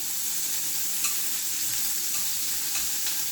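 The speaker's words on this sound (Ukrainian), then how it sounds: "додався жир, цибульку. Смажемо цибульку" Onions fry in hot fat with a loud, continuous sizzle and faint crackles throughout. No voices.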